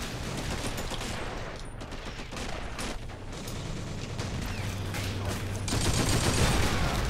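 Sustained automatic gunfire from a World War II battle game, submachine guns and other weapons chattering in dense overlapping bursts, a busy distant battlefield growing louder toward the end.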